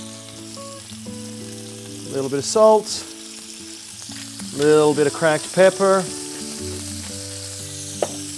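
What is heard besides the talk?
scallops sizzling in olive oil in a hot pan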